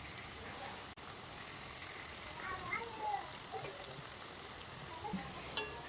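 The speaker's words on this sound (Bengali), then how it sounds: "এই দেখুন আমি ডিমের মতো কিন্তু উল্টে পাল্টে ভেজে নিচ্ছি।" Egg-shaped pumpkin fritters deep frying in plenty of hot oil make a faint, continuous crackling sizzle with light scattered pops and an occasional soft clink, with no talking.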